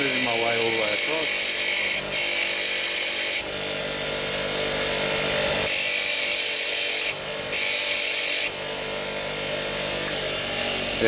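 A key cutting machine grinds across a key blank from shoulder to tip, giving a loud, harsh high-pitched grinding in bursts that drop away briefly between passes, with a steady motor hum underneath.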